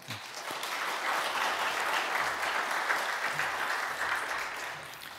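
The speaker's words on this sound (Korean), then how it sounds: "환영하는 박수 한번 드리겠습니다" A Korean church congregation at a Sunday service in New York gives a warm, sustained round of applause to welcome a missionary, a dense clapping that holds steady for several seconds and then eases off.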